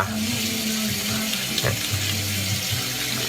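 Running tap water splashes steadily while facial soap foam is rinsed off at a sink, a continuous close wash of water with small shifts as hands move through the stream.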